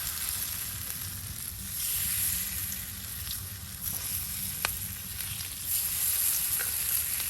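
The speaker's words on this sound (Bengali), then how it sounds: "এখন আলুর বড়াগুলা সুন্দর করে উল্টায় দেওয়া হচ্ছে তেলের সাথে, যেন তাড়াতাড়ি ভাজা ভাজা হয়ে যায়" Potato fritters frying in hot oil give a steady sizzle across the whole stretch, loudest up close, with a few sharp pops and the soft scrape of the fritters being turned.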